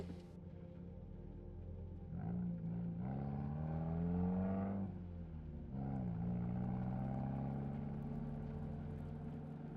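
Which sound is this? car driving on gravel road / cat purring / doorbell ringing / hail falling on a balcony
car driving on gravel road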